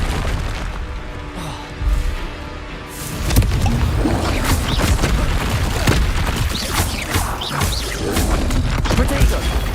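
Spell blasts and explosions from combat in the Hogwarts Legacy video game: continuous loud booms, crashes and bursts pile up densely, with no clear gaps between impacts.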